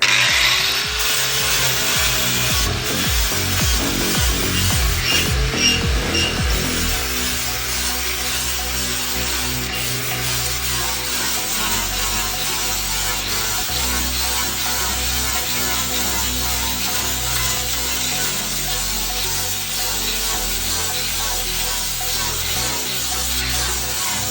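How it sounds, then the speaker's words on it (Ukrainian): Loud, continuous grinding and scraping of an angle grinder stripping paint, steady and abrasive, running throughout with no talking. "Показуємо тепер, як працює болгарка."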